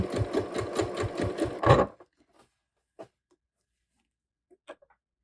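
Sewing machine back stitching and then stitching forward on ribbing for a top or dress, a short close burst of rhythmic needle thumps that stops, followed by a few faint handling clicks.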